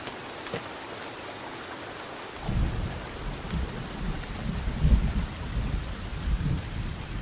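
Steady rain hisses through a video game environment, then a low thunder rumble rolls in a few seconds later and lingers, the storm heard alone without talk.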